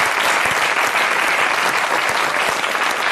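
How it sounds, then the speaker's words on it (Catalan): A studio audience on a television talk show applauds a guest named Miquel, with a sustained, even burst of many hands clapping that fills the room for about three seconds. "Un aplaudiment pel Miquel"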